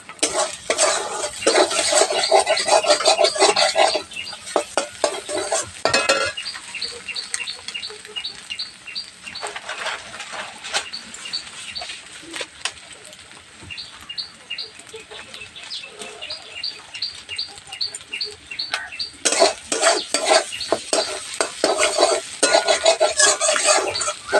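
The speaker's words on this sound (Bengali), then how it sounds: "যে সিদ্ধ করা নুডলসে একটু লবণ মাখিয়ে নেব" Boiled homemade flour noodles are tossed with a little salt in a metal bowl or pan, with continuous close clattering and scraping in bursts and a few quieter pauses between, and no speech.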